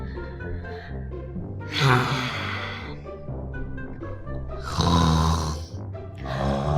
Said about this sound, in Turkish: Horluyorsun da rahatsız oluyorum